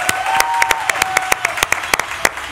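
Studio audience applauding a guest guitarist on a music talk show: brisk, scattered claps with sharp individual hand strikes over a short stretch, with a thin sustained tone gliding underneath.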